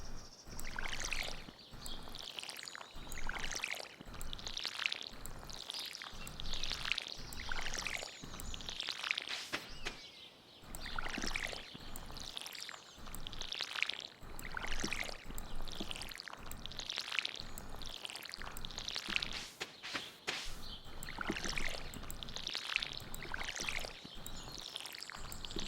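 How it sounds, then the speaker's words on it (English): Repeated soft splashing and pouring swooshes as a watering can waters crops in the farming video game Stardew Valley, coming in a steady rhythm of short bursts over a constant bed of game ambience, with no talking. "So let's water all of these plants."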